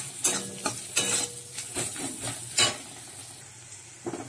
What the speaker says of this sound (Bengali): পেঁয়াজ আদা রসুন সব একসাথে মশলাটা ভেজে নিয়েছি